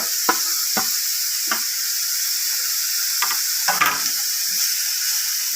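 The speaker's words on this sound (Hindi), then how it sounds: "तकरीबन 2 से 3 मिनट के लिए आपने इसको फ्राई करना है, इसका कलर नहीं ख़राब होने देना।" Capsicum and cabbage fry in a hot pan with a steady, bright sizzle. A few sharp stirring scrapes come through clearly over it, and no one speaks.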